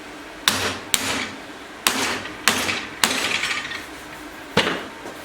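Hammer blows on a custom bespoke exhaust silencer for a BMW R80/R100 ISDT-style system, held over a bar: six sharp metallic whacks at uneven intervals, close and loud, each with a short ringing decay.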